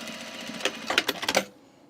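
A sewing machine stitches a bias placket on a men's button-up shirt, giving a short burst of quick mechanical clatter that rises for about a second, then stops into quiet.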